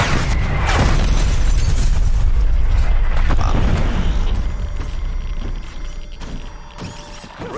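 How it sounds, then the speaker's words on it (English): Artillery strike in Call of Duty: Cold War, heard as loud, continuous booming explosions and rumbling debris that slowly fade. "Artillery."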